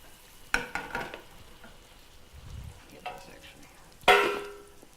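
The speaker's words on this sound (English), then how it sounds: "We're going to go ahead and introduce our ground sausage." Ground sausage in hot olive oil in a home kitchen gives a faint low sizzle, broken by a few sharp clatters as a spoon stirs and scrapes the pan.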